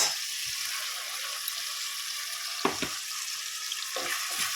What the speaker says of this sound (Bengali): এই যে পেঁয়াজ আর টমাটমটা ভালো করে ভাজা হয়ে গেছে এবার এই মশলাটা দিয়ে দেবো